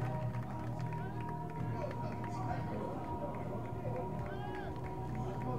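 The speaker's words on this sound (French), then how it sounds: "Allez, on l'applaudit, s'il vous plaît, messieurs," A crowd applauding and cheering a fighter's entrance at a combat sports event, a dense, continuous wash of clapping and crowd noise with voices mixed in, steady and fairly distant throughout.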